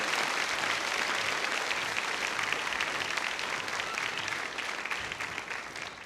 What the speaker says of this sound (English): a round of applause for all of our students graduating with honors, distinction, and ready graduates